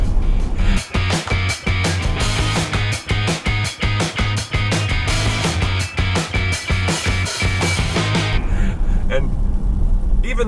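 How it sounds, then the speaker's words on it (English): A 2015 Chrysler 300 with a Hemi V8 engine accelerating on a quiet road, a loud, steady engine drone heard from inside the car with pulsing rhythmic beats, easing off near the end. "There's the Hemi."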